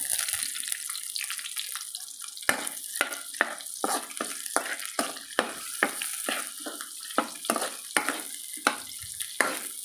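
Onion sautéing in a frying pan for a Filipino breakfast, giving a steady sizzle broken by repeated sharp stirring scrapes and clatters of a utensil, close and fairly loud, with no talk.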